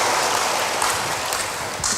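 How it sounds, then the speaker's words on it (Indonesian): A church congregation claps together in a short, loud burst of dense applause. It carries on without a break for about two seconds with no speech over it. "Berikan tepuk tangan bagi Tuhan."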